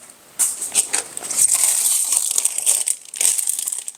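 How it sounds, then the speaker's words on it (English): Empty tin foil crumpled and crinkled close up in a house, a steady crackling rustle that keeps going for several seconds with no talk. "Just empty tin foil."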